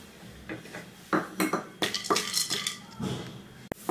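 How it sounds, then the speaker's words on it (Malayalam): Cashew nuts being roasted in ghee in a pan, with close clinks and scrapes of a metal spoon against the pan in irregular bursts and a soft frying hiss beneath. "ആദ്യം നമുക്ക് കുറച്ച് അണ്ടിപ്പരിപ്പ് നെയ്യിൽ വറുത്ത് വറുത്തെടുക്കണം"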